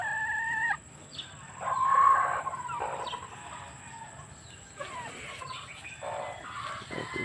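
A fighting cock, a Kinso Black Trooper breed raised for sabong, crows in a couple of rising calls amid other birds clucking and calling at moderate distance in an outdoor yard.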